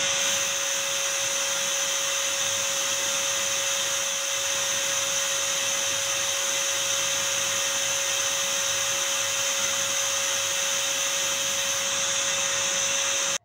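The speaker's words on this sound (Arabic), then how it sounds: "نشوف مع بعض ازاي انا بشغل المكنسه وازاي بنظف بيها المرتبه" Vacuum cleaner running steadily on a mattress, cleaning through its ventilation holes; a loud, continuous motor whine with a strong constant pitched tone throughout, no talking.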